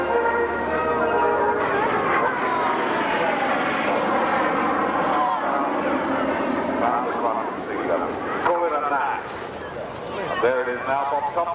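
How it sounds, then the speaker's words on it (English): A propeller airplane at a 1996 airshow in Southampton drones with a broad, steady engine roar that rises and shifts as it passes, heard under continuous public-address commentary. "This airplane, operated by Intrepid Aviation, which is David Gilmore."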